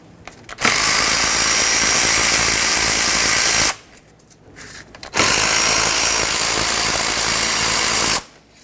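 Power tool loosening the 14mm brake caliper bolts on a 2006-2010 Hyundai Sonata front brake, two loud sustained buzzing runs of about three seconds each separated by a brief pause, close up with no talk.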